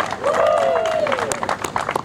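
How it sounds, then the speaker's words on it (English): Crowd applause at an outdoor sculpture unveiling, a couple of seconds of steady clapping with a voice or cheer rising over it near the start. "if you will join me in a round of applause for Christina Lambert"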